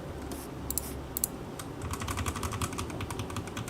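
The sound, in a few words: typing on a loud computer keyboard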